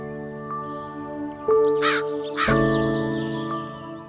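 A crow caws loudly and repeatedly, two harsh calls close together, over a steady droning musical backdrop in a rainy-day setting.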